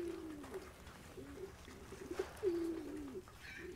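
Pigeons coo on a farm in low, soft, repeated calls at a moderate distance, one longer coo near the end, with faint outdoor background and no talking.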